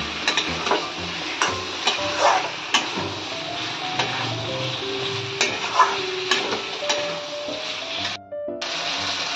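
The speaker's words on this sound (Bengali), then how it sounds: "সজনার ডাঁটা আর জিরে মরিচ পাউডার গুঁড়োগুলো দিয়ে খুব সুন্দর করে কষাতে হবে" Drumstick stems sautéing in a pan with cumin and chili powder for a Bengali fish curry, giving a steady loud sizzle and frying hiss with repeated stirring clatter throughout.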